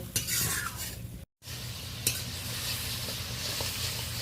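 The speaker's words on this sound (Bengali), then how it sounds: "হালকাভাবে নেড়ে নিচ্ছি।" Hilsa fish curry sizzles steadily in a pan while a spoon gently stirs it, with a soft clink of utensil against metal. The sizzling breaks off for a moment midway, then carries on close and even.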